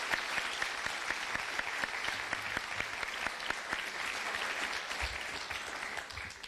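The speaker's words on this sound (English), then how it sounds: "Please join me in applauding Marcelo for this." An audience at the opening keynote of an inequality conference claps steadily, a dense continuous applause with no break, fairly even in loudness, without speech over it.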